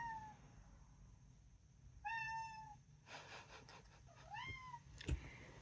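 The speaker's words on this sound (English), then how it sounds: "My cat is complaining, can't get out." A house cat meows several times, with rising-and-falling cries repeated close by, and a brief knock sounds near the end.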